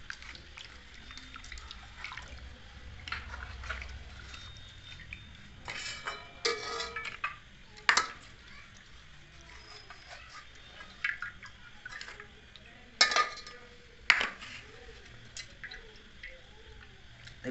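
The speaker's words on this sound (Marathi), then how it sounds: "तर असं पाण्यामध्ये चकचक स्वच्छ असं धुवून ठेवता आपण." Goat mutton pieces are washed in water in a pot, with scattered sloshing, dripping and sharp clinks of metal vessels, intermittent and close against quiet background.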